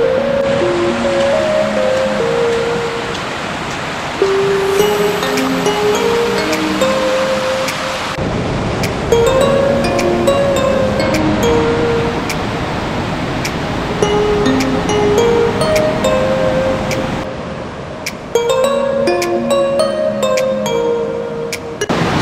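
Broad, steady rush of water from Macagba Falls in Cavinti, Laguna, a dense continuous roar close by with no one speaking, holding even through the whole stretch with faint brighter splashes on top.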